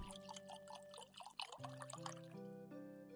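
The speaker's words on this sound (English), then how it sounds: "I got one scoop of water." Water scooped into a cup from a well in a video game, a faint, drawn-out liquid pour and trickle that runs on for a few seconds over a quiet tonal background.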